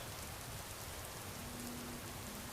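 A rainstorm in Skyrim's Dragonborn expansion on Solstheim, a dense, even hiss of falling rain that stays constant and fairly faint throughout, with no voices.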